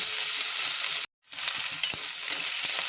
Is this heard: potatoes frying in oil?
yes